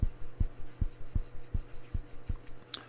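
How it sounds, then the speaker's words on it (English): Steady insect chirring at night in the RPG Maker horror game Flowers for Kasumi, a continuous pulsing drone over a low, regular thumping beat, with no talk. "Enjoy your time with the cicadas. My, they are so loud tonight."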